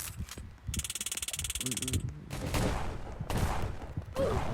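Gunfire in the Roblox game Prison Life, a rapid string of sharp shots in a fast rhythmic burst followed by scattered louder cracks and game noise, moderately close.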